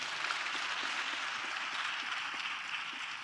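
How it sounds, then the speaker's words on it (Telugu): A church congregation claps hands together while giving praise, a steady dense patter of many hands from a crowd at moderate distance, continuous for the whole stretch without voices. "చప్పట్లు కొడుతూ స్తోత్రాలు చెప్తాం."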